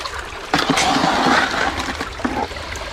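Water rushes steadily through a gold sluice box with a dream mat as scooped bedrock placer dirt is washed, a continuous close splashing flow with a few sharper surges.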